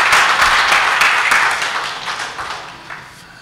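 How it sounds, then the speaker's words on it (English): An audience applauds at a book launch for The Shoreless Infinite, a dense, steady wash of clapping that starts loud and gradually thins and fades over a few seconds. "So please give a big round of applause for this wonderful,"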